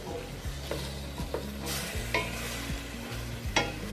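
Meat with garlic, onion, peppers and zucchini cooking together in a pan, sizzling steadily and close, with repeated scraping stirs and soft utensil knocks against the pan. No talking.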